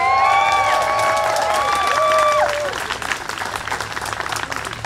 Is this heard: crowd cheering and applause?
yes